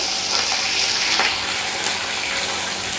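Pabda fish frying in hot oil for a mustard fish dish, a loud, steady, close sizzle with crackling spatter running throughout and no speech.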